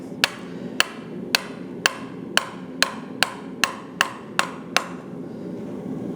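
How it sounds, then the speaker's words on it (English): A blacksmith strikes a hot metal punch with about ten evenly spaced, sharp ringing hammer blows, close by and fairly quiet overall, over a low background rumble. "because we're going to be hitting it"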